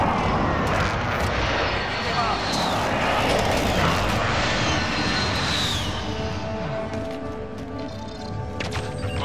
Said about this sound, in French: Attention, bombardement de précision. Drone ennemi au-dessus.